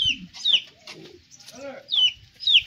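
Chickens cluck and squawk close by in short bursts, with a few higher calls scattered among softer murmuring clucks.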